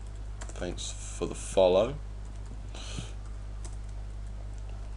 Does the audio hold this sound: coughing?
no